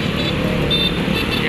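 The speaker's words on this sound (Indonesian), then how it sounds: "Nih ada di perapatan Palimanan. Nih di sini pangkalan bus." Traffic at the Palimanan intersection by a bus stop, a loud, steady roar of passing engines and tyres on the road, continuous and close, with no voices.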